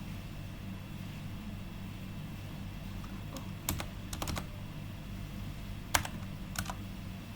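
Keys tapped on a computer keyboard while building a database, a few short bursts of clicks with pauses between, quiet over a steady low background hum, no talking.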